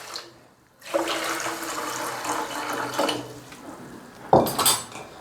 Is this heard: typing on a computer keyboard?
no